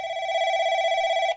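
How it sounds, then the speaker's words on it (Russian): A telephone rings in a shop simulator video game: a steady electronic tone with bright harmonics, held continuously and loud for over a second with no talk over it. "Итак, нам звонят. Нам звонят."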